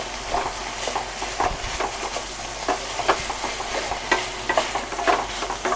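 Curry being stirred in a pan over the heat, with a steady sizzle and repeated scraping strokes at an even pace, close by and moderately loud.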